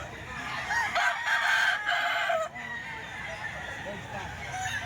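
A gold stag rooster crows at close range, one strained call through the middle, over a busy backdrop of other fowl and background noise.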